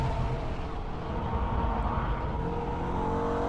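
A Holden VF Ute street car runs hard around the Nürburgring, its engine droning loud and steady as it accelerates through the gears toward Metzgersfeld, with no talk over it.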